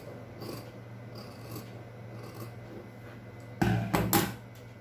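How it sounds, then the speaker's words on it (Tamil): Scissors snip along a curved edge of blouse fabric, a series of soft rasping cuts over a low hum, ending in a few louder, sharper snips. "இந்த வளைவு மட்டும் கட் பண்ணி எடுத்துருங்க"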